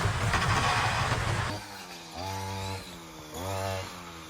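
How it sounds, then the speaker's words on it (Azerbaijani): A grass mowing machine runs nearby with a rough, buzzing engine drone that pulses and changes pitch as it works, loud at first and then rising and falling. "Bugün ot biçən gəlmişdi"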